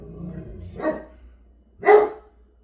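A dog in a home kitchen gives two separate, fairly loud barks about a second apart, each one sharp and short, with quiet between them.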